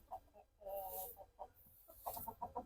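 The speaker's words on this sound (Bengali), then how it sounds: "আমার কাছে এখনো বিশটার প্লাস মুরগি আছে" Backyard chickens cluck softly in short bursts that come and go, fairly close but quiet against a hushed farmyard background.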